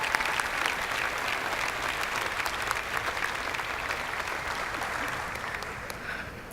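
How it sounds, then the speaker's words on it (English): A graduating high school class applauds at its graduation ceremony, sustained crowd clapping dense and even throughout, filling the space with a bright, continuous patter and a little crowd murmur beneath. "let's give ourselves a big round of applause"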